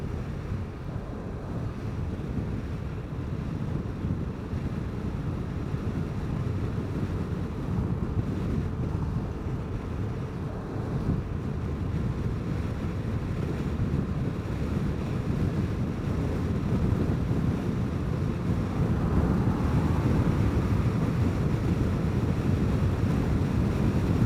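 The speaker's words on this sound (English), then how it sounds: "Wind's blowing pretty good." Strong wind buffeting the microphone while riding a Vespa GTS 300 Super Sport scooter on the highway, a continuous low roaring rush that swells and gusts throughout, steady and loud with no speech.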